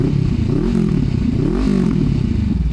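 A 2019 Honda CBR500R motorcycle engine idles loudly and close, a throbbing low burble with slight rises in pitch as the revs waver.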